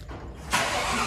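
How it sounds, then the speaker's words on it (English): A 2020 Shelby GT500 engine, started by remote start, cranks and catches, jumping from a quiet background into a steady idle that keeps running. "So I'm going to use my remote start."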